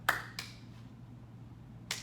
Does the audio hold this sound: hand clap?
yes